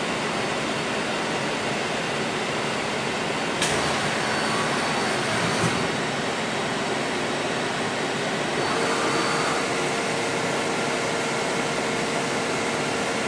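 A CNC machine runs its program after Cycle Start, giving a loud, steady broadband whir of motors and airflow with a few brief tonal shifts as the axes move. No one speaks over it.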